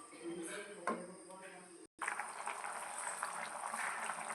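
Tamarind stew with dried prawns bubbling in a pot, a steady wash of boiling and simmering that continues after a brief break, with a voice speaking over the first part.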